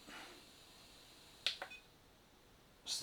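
Short electronic beeps from a Gens Ace G-Tech 100W LiPo battery charger, one bright chirp with a quick follow-up then another beep near the end, fairly faint over quiet room hiss.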